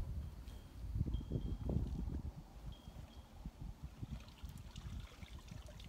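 A cast net hauled up out of the water, dripping and splashing in close low trickles and bursts that fade into a softer steady patter, with no talk.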